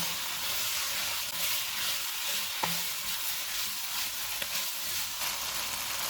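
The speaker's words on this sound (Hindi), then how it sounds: "इनको भी 3 से 4 मिनट तक भूनेंगे।" Steady sizzling of bell pepper and onion frying in a hot pan, a continuous hiss with a few faint clinks of stirring.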